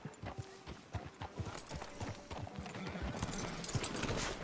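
Rhythmic hoof clip-clop of a horse walking in the video game Red Dead Redemption 2, steady and fairly close, with a faint low ambient background.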